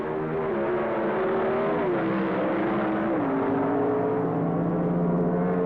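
Pro Stock drag cars at the 1975 NHRA Winternationals roar down a quarter-mile strip, a loud sustained engine howl whose pitch climbs and shifts through gear changes, with no voices.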